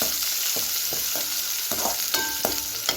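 Onion, green chilli and curry leaves sautéed in a pan while being stirred, for a ragi semiya dish: a steady close sizzle with scraping spatula strokes at irregular intervals.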